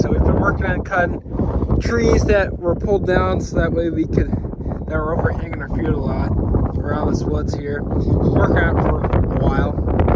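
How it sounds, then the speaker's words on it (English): Gusty wind buffets the microphone over a farm field beside a stretch of woods, a steady low rumble running beneath someone talking throughout. "Sorry about the wind."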